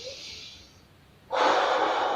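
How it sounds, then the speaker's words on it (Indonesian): A person takes a strong, deep breath during a guided hypnosis breathing exercise, a soft airy inhale followed by a louder, forceful exhale close to the microphone, with no talking. "tarik nafas agak kencang lumayan biar terasa"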